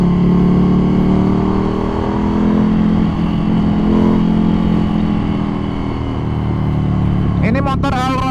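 A Ducati Scrambler 800 Icon from 2020 rolls along at a steady engine drone with road and wind roar throughout, and a voice cuts in near the end.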